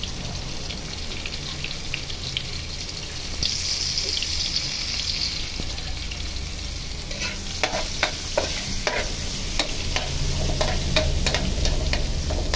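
Ginger, garlic and onion sizzling in hot oil in a pan as they are stirred, a steady frying hiss with scraping utensil strokes growing busier and louder toward the end.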